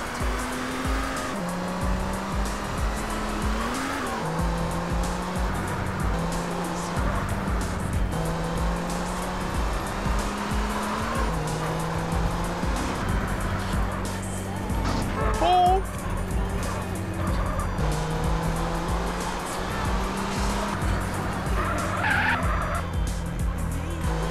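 A car in GTA San Andreas drives fast with a droning engine that rises and drops through gear changes, broken by repeated tire squeals and skids, loud and continuous throughout.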